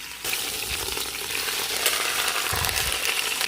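Meat sears in a hot pan, a dense, loud hiss of sizzling that starts abruptly and stays continuous, with occasional crackles and a brief low clatter of handling near the end.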